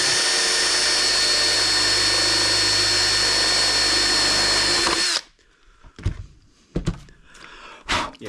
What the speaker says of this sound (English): drilling holes for no reason in carbon fibre boats